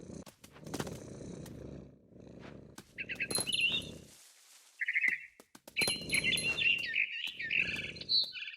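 Small bird chirps from the video game What Remains of Edith Finch, bright high tweets and trills in short bursts, alongside a rhythmic low rumbling purr and scattered clicks.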